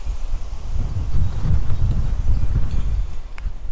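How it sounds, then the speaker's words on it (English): Strong wind buffets an outdoor microphone beside a truck with a bed rack, producing loud, close, low rumbling gusts that swell and fade continuously throughout. "It's really windy today."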